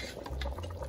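Soaked rice poured into boiling mutton stock (yakhni) for Pakistani mutton pulao, a short close watery splash and bubbling rush.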